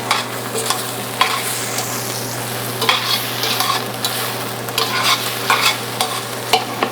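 Peppercorns and leeks sizzle in olive oil in a pan, a close, steady frying hiss broken by repeated scraping stirs, with no talk.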